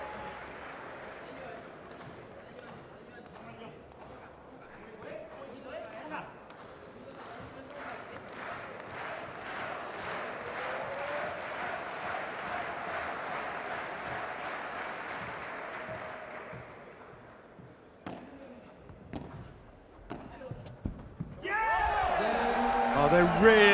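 Spectators at a Premier Padel P2 match on the Central Court in Brussels break into rhythmic clapping that builds steadily, then fades. A louder burst of cheering and applause erupts near the end.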